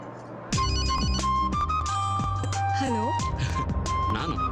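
A bright electronic phone ringtone chimes in a repeating melodic pattern, loud and close, layered over film music and voices in a Kannada movie scene.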